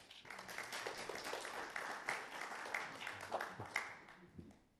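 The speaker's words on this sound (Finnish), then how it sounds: "ja sitten aplodi" Audience applause after a lecture: a few seconds of steady clapping from a room of listeners, building quickly and then fading away toward the end.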